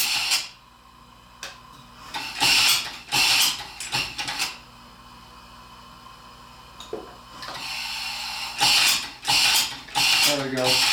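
Small hobby steam engine chuffing with newly fitted, unadjusted valves, giving bursts of hissing exhaust and mechanical clatter that start and stop between quieter stretches, with a faint voice at moments.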